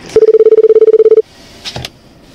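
A telephone rings for an incoming call with a single loud, rapidly pulsing electronic ring lasting about a second, followed by a brief faint handling noise.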